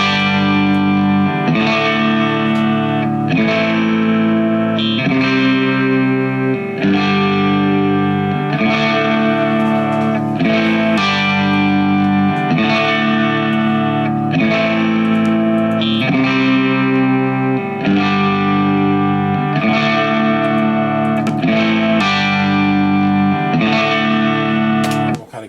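A full music mix run through the UAD Studio 800 tape machine plugin, with dense, warm, slightly saturated chords and a steady rhythmic pulse playing continuously and loudly for about 25 seconds, no talking.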